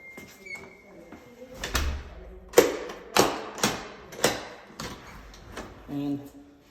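A door fitted with a newly installed one-sided deadbolt lock is worked repeatedly, giving a series of sharp metallic clacks and thuds from the bolt and latch, close and loud, with quieter rattles and handling noises between them.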